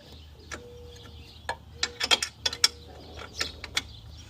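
Short metallic clicks and ratcheting ticks from an Allen key tightening the nuts and bolts of a strut bar on an Infiniti FX, coming in sparse, irregular bursts, close but fairly quiet.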